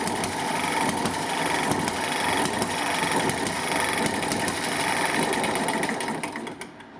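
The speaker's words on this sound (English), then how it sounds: "So it's a 4-stroke single cylinder overhead cam RC" A Toyan four-stroke single-cylinder overhead-cam RC engine runs steadily at high revs, a dense buzzing drone with rapid firing ticks that continues without pause before tapering off near the end.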